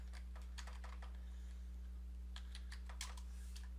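Faint keystrokes on a computer keyboard in two quick bursts of typing separated by a short pause, set against a steady low electrical hum.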